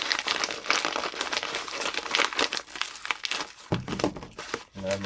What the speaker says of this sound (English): So I'm just gonna finish tearing it up now so I can just get to